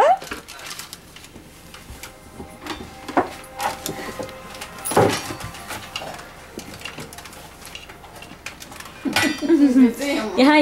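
Metal pots and pans clank and clink now and then as a child handles them in a kitchen, with a sharp clatter midway and voices talking near the end.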